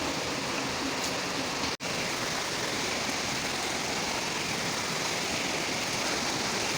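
Steady rain pours outside a home, a dense, even wash of falling water with no individual drops standing out and a brief dropout near the start, with no one talking.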